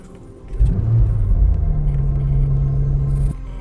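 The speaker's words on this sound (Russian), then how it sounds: "Послушаем звук выхлопа, эмоции." Exhaust and engine of a 2027 Audi RS 5 in RS mode, a low rumble that swells at about half a second into a steady, droning hum, close and loud, then drops back near the end.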